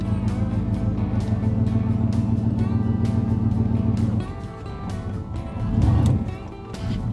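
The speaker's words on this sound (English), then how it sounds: "Bubba wants me to turn the truck around" Pickup truck engine running steadily at low revs while the truck is turned around, a constant near drone that dips and swells slightly toward the end.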